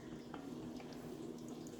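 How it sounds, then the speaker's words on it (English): Water pours steadily into a cooking pot for a Portuguese-style chicken bouillon dish, a continuous soft splashing with a faint low hum underneath and no talk. "now we're going to add a little bit of water, maybe half"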